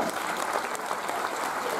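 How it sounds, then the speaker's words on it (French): Audience applause for the Miss Doubs 2018 pageant candidates at the Foire Comtoise in Besançon, a steady, dense clapping that fills the whole short stretch at moderate level. "Ça demande beaucoup de courage, on peut d'ailleurs les applaudir."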